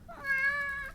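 Bonnie, a pet cat, lets out a single clear, drawn-out meow close by, with no other sound around it.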